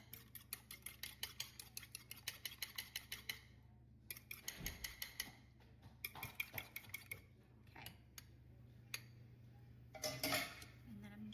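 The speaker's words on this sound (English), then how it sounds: "Scramble it up." A fork whisks egg wash in a bowl, a quick run of regular clinks against the dish. The taps pause and resume in short bursts, fairly close and clear. Now and then a voice speaks between them.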